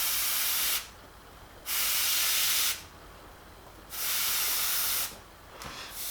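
Airbrush spraying a fine paint mist over a realistic tiger mural, heard as three steady, loud hissing bursts of about a second each, separated by short quiet gaps.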